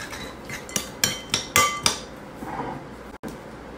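Salad being mixed with vinegar and olive oil makes a series of sharp clinks and knocks, utensils striking a bowl in a quick irregular run, followed by a softer stir, close and with no talking.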